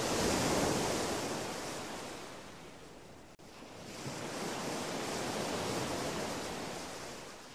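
Ocean waves rolling onto a shore, two long swelling surges of broad washing noise with a brief cut between them, loud and close, no voices.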